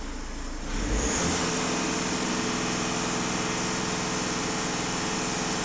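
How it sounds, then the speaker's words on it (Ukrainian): A Skoda Superb 2.0 TDI diesel engine climbs sharply after a quiet start and holds at full throttle, a loud, continuous high-revving roar sustained close by. "даю газ в пол"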